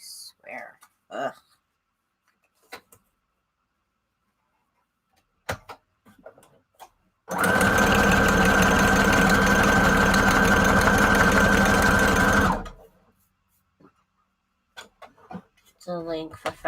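A sewing machine stitching paper scrap embellishments runs in one steady, buzzing burst of about five seconds, close and fairly loud, with quiet whispered talk and faint clicks in the otherwise silent stretches before and after.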